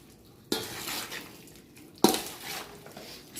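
Mango pickle (avakaya) stirred with oil in a vessel, giving two sharp scraping clatters against the pot, one early and one midway, each trailing into softer wet rustling; close and fairly quiet, with no talking.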